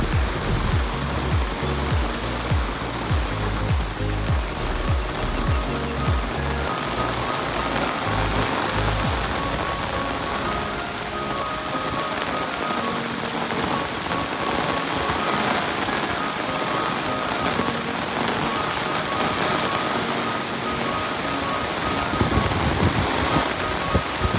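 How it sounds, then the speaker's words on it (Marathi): Heavy rain pours down in a dense, constant roar, loud and unbroken for the whole stretch, with no voices. "बघा खतरनाक पाऊस पडतो."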